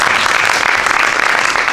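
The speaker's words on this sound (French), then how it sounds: "on peut applaudir" Brief burst of audience applause at a digital communication conference, a dense, loud wash of clapping throughout.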